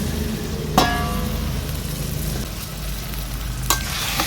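Marinated chicken dropped into hot oil with frying onion, ginger and garlic for chicken maharani, giving a steady close sizzle with two sharp stirring clatters, no voices.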